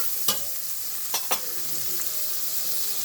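Oil and butter sizzle steadily in a hot pan, with a few sharp scrapes and clinks as the fat is stirred around, a close, continuous frying hiss throughout.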